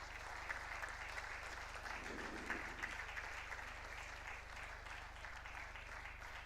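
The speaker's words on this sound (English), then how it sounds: "that deserves a bigger round of applause" Applause from the audience at a sports start-up conclave, a continuous, fairly distant wash of clapping over a low electrical hum.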